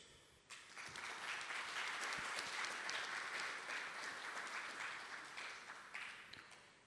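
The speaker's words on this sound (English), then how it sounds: "May I request a round of applause for our heroes." A crowd at a journalism awards ceremony applauds continuously for several seconds, a dense wash of clapping that swells quickly and holds steady before easing slightly.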